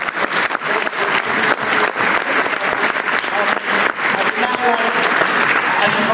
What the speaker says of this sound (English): Could you please give a huge round of applause for that?